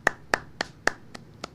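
Six sharp hand claps from one person at a steady moderate pace, close and distinct, with the last two a little softer.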